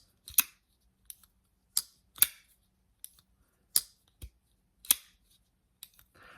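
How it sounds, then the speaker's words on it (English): A folding knife snaps open and shut again and again, giving about ten sharp, close metallic clicks with quiet gaps between them. "when it opens, you get a nice thwack, but then you get a little bit of a ting when you disengage a knife."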